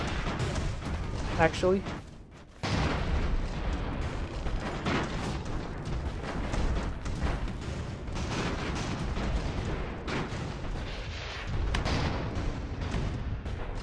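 Airship cannons boom in the game Airships: The Magnificent Empire, a dense and continuous battle roar with repeated heavy shots. Someone talks briefly over the gunfire.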